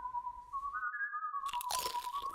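Spicy barbecue potato chips are crunched in short, close bursts late in the moment, following a stretch where a steady whistling tone sounds alone.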